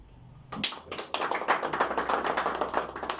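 Theatre audience bursting into applause to welcome a storyteller performer, a dense run of many hands clapping that starts suddenly after a quiet moment and continues steadily, fairly close and lively.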